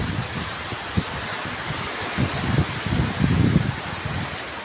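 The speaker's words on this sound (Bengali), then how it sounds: "কি বাতাস" Strong wind blows in rising gusts and rumbles against the microphone, with rustling bursts building toward the middle and then easing.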